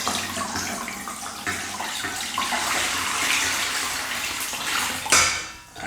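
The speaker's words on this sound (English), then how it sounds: "I've got like a little jug there with my colander, and I'm just going to pour that through" Lemonade mixture splashes and gushes as it is poured through a colander into a jug, a steady close watery rush with a brief louder splash near the end.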